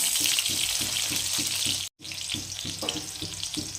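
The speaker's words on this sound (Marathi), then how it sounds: "अशा छान लाल होईपर्यंत मी मिरच्या तळून घेतल्या।" Green chilies fry in hot oil for a Marathi chili dish, giving a loud continuous sizzle with rhythmic stirring scrapes and a brief gap midway.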